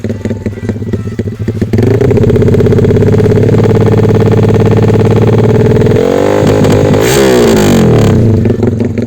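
A 177cc stroked-up Yamaha MX King motorcycle engine revs loudly up close, with a raspy, gritty exhaust roar that climbs, holds, then drops and surges again, with mechanical clatter under the tone.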